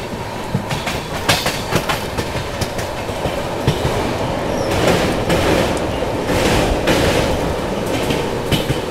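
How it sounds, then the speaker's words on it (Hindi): An Indian Railways train runs near Delhi Shahdara alongside a Delhi Metro line, with a loud, continuous roar and rhythmic clickety-clack from the wheels on the rail joints, heard up close from on board. "Parallel action with Delhi metro."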